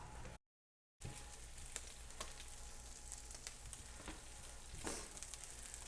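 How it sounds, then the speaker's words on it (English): Beef bourguignon sizzling in a hot pot fresh from the oven, a faint, steady crackle and hiss with scattered pops after a brief silent gap. "Look at it, sizzling hot."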